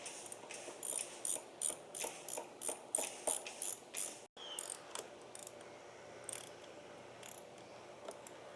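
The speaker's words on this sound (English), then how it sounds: "I put the screws in the pilot holes and tightened them with the socket wrench." Socket wrench tightening screws into pilot holes on a wooden dock, a steady series of crisp ratcheting clicks in regular strokes for several seconds, then quieter ticking continuing in an outdoor setting.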